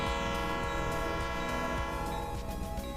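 Leslie RS30 air horn sounding on a GATX GP40 locomotive in the Rails Unlimited train game, a steady, loud multi-chime blast held throughout with rail rumble beneath.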